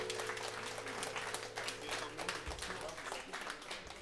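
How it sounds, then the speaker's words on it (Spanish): An audience applauds at a Caribbean music show, with dense, steady clapping that fills the whole stretch over a low hum. "El aplauso, por favor."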